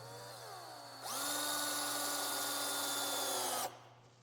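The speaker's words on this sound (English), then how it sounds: "time to throw some screws in" Power drill driving a number 8 two-inch construction screw into wood for a herb garden build: one steady, rising whine of a couple of seconds that stops abruptly, close and alone.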